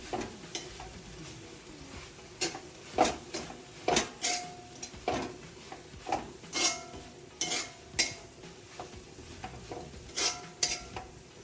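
Green chili sautéing in chicken curry masala in a pan, with a steady low sizzle under repeated clear scrapes and clinks of a spoon stirring against the metal at a fairly regular pace, close up and with no talking.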